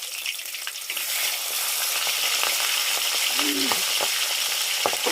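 Bhetki fish bones sizzle in hot oil in a pan just after being flipped, a steady, loud, close frying hiss with small pops and crackles throughout.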